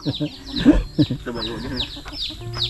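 Backyard chickens, including laying and brooding hens, cluck in short, uneven bursts close by while people talk over them.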